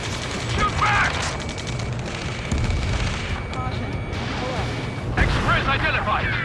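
Booming explosions and mechanical clatter in the video game Ace Combat 7, several bursts across a dense battle soundscape, with shouted voices heard in between.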